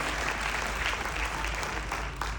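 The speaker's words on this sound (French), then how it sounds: "Donc encore un applaudissement pour Willy, s'il vous plaît." A crowd claps steadily and continuously, a dense wash of applause that holds at an even level throughout.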